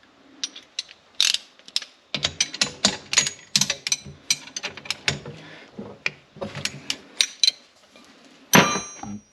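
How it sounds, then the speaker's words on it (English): Ratchet straps are cranked tight on a Ski-Doo MXZ 550F snowmobile, with a close run of quick metallic clicks in irregular bursts and a louder clank near the end. "so now we'll just tighten up our straps"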